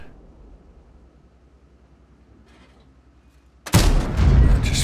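A single loud tank cannon shot from the IS-M in World of Tanks on the Siegfried Line map, bursting in suddenly after a quiet stretch and followed by a sustained booming roar that lingers to the end.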